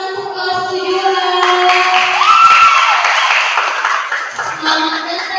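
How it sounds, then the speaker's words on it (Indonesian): Applause for class 7 at a school quiz contest: a broad wash of clapping and crowd noise runs throughout, steady and fairly loud, with a voice talking over it. "tepuk tangan untuk kelas 7"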